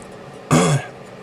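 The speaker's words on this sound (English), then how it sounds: "pardon me as I kind of sniff and cough through this" A single short throat clearing with a brief cough, close and distinct against a quiet background.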